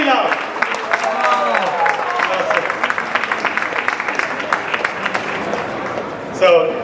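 Loud, sustained audience applause for the IBCN 2023 team at an ice-breaking cocktail party in Malaysia, dense clapping mixed with crowd voices and a few whoops, running steadily for several seconds before fading.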